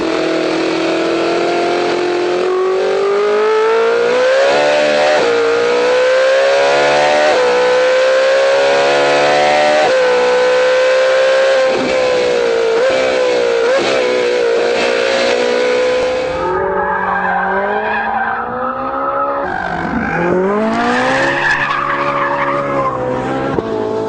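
A Ferrari 458 Italia engine screams through rising and falling gears, loud and sustained, with sharp pitch climbs and drops as it accelerates.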